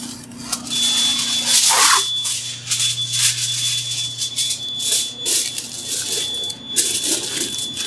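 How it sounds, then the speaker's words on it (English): A kitchen timer goes off while chicken parmesan bakes in the oven, sounding as a steady high-pitched electronic beep that runs throughout, fairly loud and with no talking. "our timer went off on our chicken"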